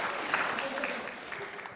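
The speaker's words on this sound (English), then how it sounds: "So I think that deserves a round of applause." An audience at an admitted-student panel giving a short round of applause, a soft, steady patter of many hands that fades toward the end, with a voice briefly heard over it.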